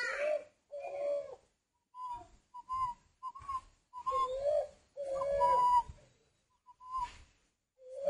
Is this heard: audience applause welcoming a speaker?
no